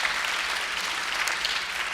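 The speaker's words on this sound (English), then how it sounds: "Give yourselves a round of applause for what you've put together today." Applause from a mock political convention audience, a dense, steady wash of many hands clapping that stays loud and even throughout, with no voices breaking through.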